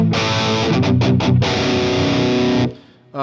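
A heavily distorted electric guitar through a Helix amp model rings out in sustained, loud chords with a few choppy strums, then cuts off and fades near the end.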